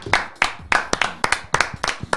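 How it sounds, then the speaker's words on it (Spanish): A group in a football TV studio claps together in a steady rhythm, loud and close, with each clap landing crisply in unison. "Aplaudan"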